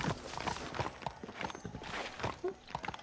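Rapid horse hooves clop along steadily in the video game Red Dead Redemption, a quiet rhythmic trotting patter that continues throughout.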